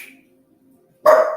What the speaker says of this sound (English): Just as I say that, my dog starts barking.